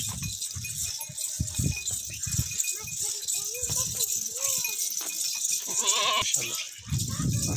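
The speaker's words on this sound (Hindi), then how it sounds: "बड़ी बकरी है माशाल्लाह से भैया" A large goat bleats with several short, wavering calls, near the microphone, mixed with a person talking and some rattling noise around it.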